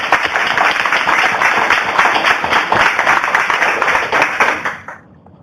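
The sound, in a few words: audience round of applause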